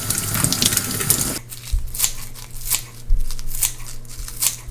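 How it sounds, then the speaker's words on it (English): Fresh chives rinsed under a running kitchen tap: a loud rush of flowing water that shifts to uneven splashing and spattering as the herbs pass through the stream, close by and with no speech. "Flush it under the water."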